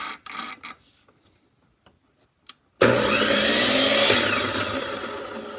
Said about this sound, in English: I'm going to take and move my saw to a 10-degree miter